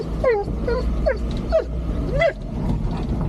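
A dog whimpers at home in a string of five or six short rising and falling whines, close and fairly loud over a low steady background hum.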